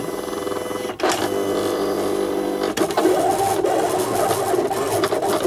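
A Silhouette cutting machine cuts a Christmas card, giving a steady mechanical whir and scraping of the carriage and blade that shifts pitch as it moves, continuous and close throughout.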